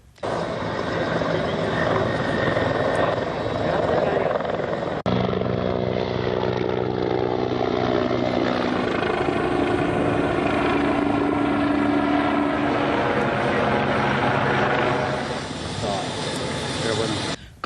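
Firefighting helicopters drone loudly and steadily throughout with continuous rotor and engine noise, while a voice talks over the top.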